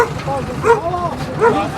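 A dog gives two short, high yipping barks about a second apart, close by, with faint background noise.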